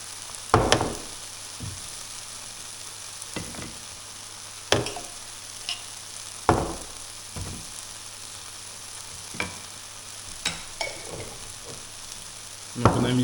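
A spoon stirs honey, maple syrup and vanilla into a crumble mixture, giving a run of scraping and clacking strokes at an uneven rhythm, each stroke a short sharp burst against the bowl with quiet gaps between them.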